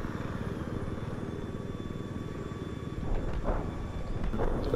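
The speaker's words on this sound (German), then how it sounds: "Ich hab den feindlichen Helikopter genau südlich deiner Stellung gesichtet." An enemy helicopter in Battlefield 4 drones with a steady rotor thrum under game noise and faint bursts, continuous and fairly close throughout.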